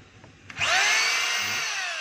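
A DeWalt D25032 rotary hammer drill in hammer mode, loaded with a bit. It starts up after a faint click and quickly rises to a loud, steady, high-pitched whine that holds for more than a second with no talk.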